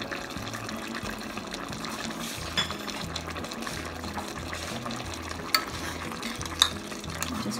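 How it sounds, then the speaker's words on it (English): Pompano fish simmers in a pan of sweet and sour sauce, giving a steady soft bubbling hiss with a few sharp clicks, under a continuous background music bed. "let it sit here, simmer it for 5 minutes"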